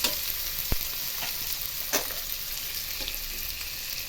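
Chopped ingredients being stirred in a hot pan with hing, a steady sizzle broken by a few sharp spoon clicks against the metal, close and alone.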